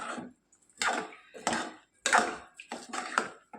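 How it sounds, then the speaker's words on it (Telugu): Soaked rice and moong dal stirred into a hot tempering in a pot for pesarapappu khichdi, heard as a series of distinct scraping, clinking spoon strokes in an uneven rhythm, close and fairly loud. "తాలింపులో ఈ బియ్యాన్ని బాగా కలుపుకోవాలండి ఈ విధంగా కలుపుకోవాలి"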